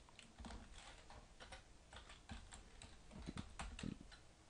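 Code is typed on a computer keyboard, a quiet run of light, irregular key clicks close by with no one speaking.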